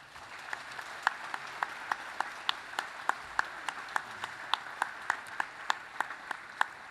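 An audience applauds steadily for the families of the members of Korea's constitutional assembly at a formal ceremony, many hands clapping in a dense, even wash for about seven seconds with no voices over it.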